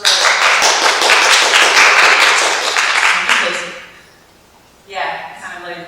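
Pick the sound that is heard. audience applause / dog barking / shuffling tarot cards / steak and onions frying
audience applause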